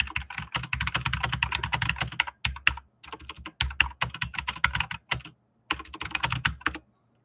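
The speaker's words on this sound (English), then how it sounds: "And I'll type that down here too." Rapid typing on a computer keyboard, close and clear, in busy bursts of clicking keystrokes separated by short pauses, with no talk.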